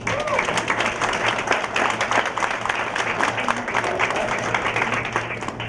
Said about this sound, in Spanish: Por favor, salúdenme con un aplauso.